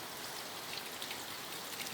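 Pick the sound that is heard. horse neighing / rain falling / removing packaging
rain falling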